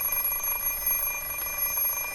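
Alarm clock ringing in the Fate/Stay Night visual novel, a steady electronic beeping tone held throughout, loud and continuous with no voices.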